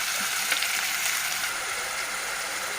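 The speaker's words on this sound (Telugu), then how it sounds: "గోల్డెన్ బ్రౌన్ వచ్చేంత వరకు ఆనియన్స్ని బాగా వేయించుకుందాం" Sliced onions and green chillies frying in oil in a cooker, a close, even sizzle with faint occasional stirring, steady and unbroken, no voices.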